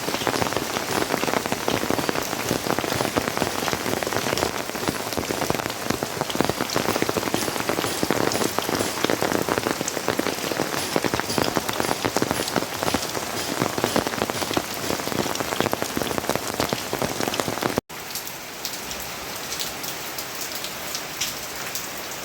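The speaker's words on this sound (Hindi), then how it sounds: "इतनी तेज़ बारिश, इतनी मूसलाधार बारिश, और अभी भी बहुत तेज़ हो गई है।" Heavy, torrential monsoon rain in Haridwar pours steadily and loudly, a dense continuous roar of drops hammering a surface, easing slightly in the final few seconds.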